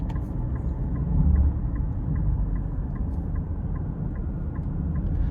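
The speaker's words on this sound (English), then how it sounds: "I actually like the sound you get as you get higher in the RPMs" Low, steady three-cylinder engine drone from inside a 2026 Nissan Rogue S FWD, a rumbling hum that holds fairly even with a faint rhythmic ticking.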